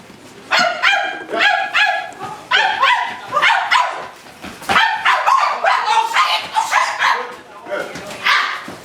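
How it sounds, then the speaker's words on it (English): Rapid barking in a theatre rehearsal, a string of loud, close yaps and woofs in bursts over several seconds, probably a performer voicing a dog. "Put the barking."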